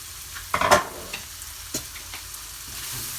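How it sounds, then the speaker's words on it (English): Onions sizzle in a pan with a continuous frying hiss, while a few sharp utensil scrapes and clatters of stirring cut through near the start and middle. "Here our onions are also cooking. They are also nearly done."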